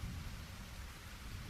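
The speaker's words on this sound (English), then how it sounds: "They glanced out at the world that was raining now and raining steadily." Steady rain falls with a low thunder rumble underneath, a soft, even wash of sound that stays faint and continuous for a second and a half, with no voices.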